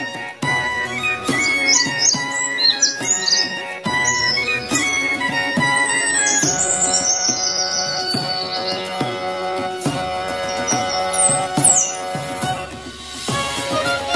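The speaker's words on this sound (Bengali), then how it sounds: "ঘুঘু পাখি ডাকছে গাছে" A dove calling in a tree, bright chirps and tweets in short bursts over a busy musical background.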